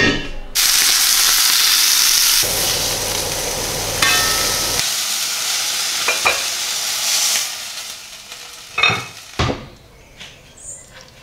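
Meat hits a hot pan of already cooked vegetables with a loud, steady sizzle, then quietens as stirring and a few sharp clinks of utensil on pan break through.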